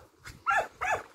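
Border Collie during a training session giving two short, close bark-like vocal bursts in quick succession, with a faint third sound starting at the end and no talk.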